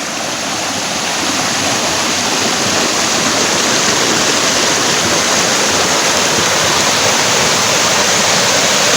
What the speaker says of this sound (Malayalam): ഇവിടെ നല്ല വെള്ളച്ചാട്ടം ഉണ്ട് കേട്ടോ